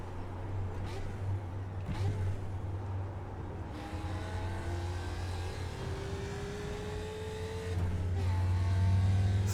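A Ford race car in iRacing at Road America, with a shifter fault, drones steadily with rising and falling engine tones, then climbs into a louder, sustained high rev toward the end under faint background sound.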